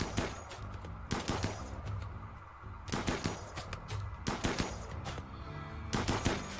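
Rimworld gunfire comes in bursts of rapid, sharp shots, several clusters spaced by short pauses, loud and near over a low game background with no talk.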